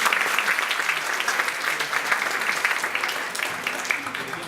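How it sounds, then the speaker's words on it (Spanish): Loud, sustained applause from a large audience at an academic criminology book presentation, a dense wash of clapping hands that stays steady for several seconds. "el doctor Ernesto Alas Miranda, quien recibimos con un fuerte aplauso."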